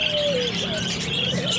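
Pet parakeets in a cage chirping continuously, with bright overlapping tweets and short calls, fairly close and steady over a low background hum.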